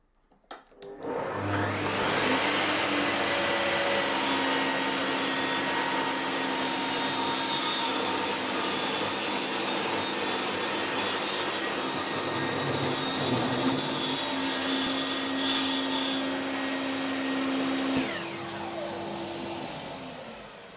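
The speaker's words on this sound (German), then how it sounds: "Dafür habe ich mir die Tischkreissäge eingestellt." A table saw spins up and cuts through wood for a coffee table with a steady, loud whining rasp, then winds down at the end; no talking.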